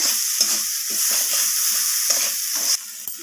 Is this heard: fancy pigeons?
no